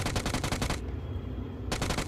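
Rapid automatic gunfire in the mobile battle royale game BGMI, two loud close bursts of fast repeated shots separated by a brief pause, with no voices.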